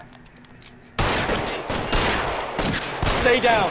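Sustained gunfire erupts in L.A. Noire after a quiet second, a loud, close barrage of overlapping shots with brief bursts, and a voice speaks early on.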